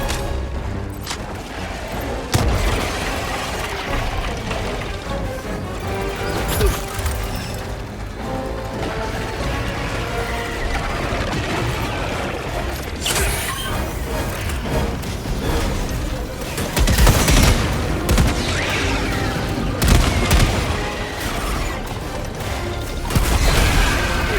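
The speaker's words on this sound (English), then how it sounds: "Throwing grenade!" Explosions and gunfire from the video game Helldivers 2 after a grenade is thrown, dense, loud battle noise with sharp blasts and crashes continuing throughout.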